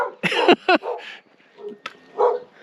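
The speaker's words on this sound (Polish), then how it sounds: "A tu jeszcze jakiś pies na mnie szczeka." A dog barks nearby in a couple of loud, sharp woofs, followed by softer yips and whimpering noises with short pauses between them.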